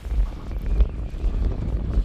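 Wind gusting across a fishing pier, low rumbling buffets that swell and fade irregularly against the microphone, fairly loud and with no voices.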